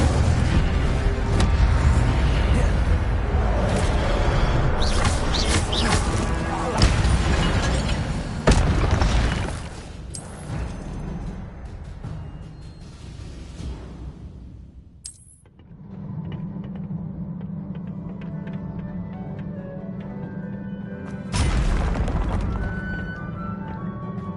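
Incendio fire spell cast repeatedly in Hogwarts Legacy, heard as loud booming, burst-like blasts over continuous game sound, with a brief drop to near quiet midway before another blast.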